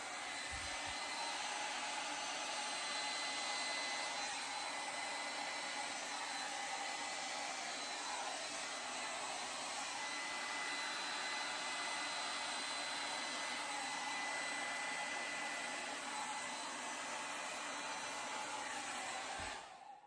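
A hair dryer blowing thick acrylic pouring paint, a loud continuous whooshing drone held steady for the whole stretch before cutting off at the very end.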